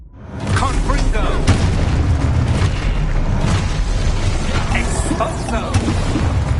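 A Confringo fire spell blast from Hogwarts Legacy on PS5, heard as a heavy, sustained booming roar of explosive energy that stays loud from start to finish, with shouted voices mixed into the combat noise.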